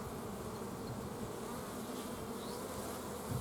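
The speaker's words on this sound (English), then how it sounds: "Little busy bees." Honey bees swarm around an open hive, a dense, continuous droning buzz that stays close and fairly loud throughout, with no voices heard.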